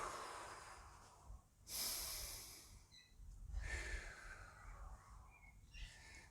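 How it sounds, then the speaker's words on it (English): Heavy breathing during recovery after a home circuit workout, a few loud bursts of exhaled air and snorting breaths spaced unevenly, close and alone. "Breathing."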